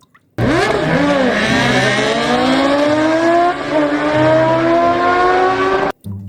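Toy racing motorcycle sound effect: a loud electronic engine revving that rises and sweeps steadily upward for about five seconds, then cuts off abruptly, with no talking.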